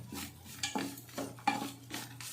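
A spoon scrapes and stirs a minced chicken mixture in a pan on a low simmer, in four or five close, rhythmic strokes.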